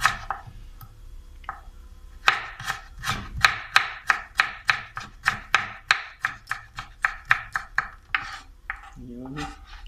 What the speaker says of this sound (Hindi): अब इसको हम जूलियन काट लेते हैं।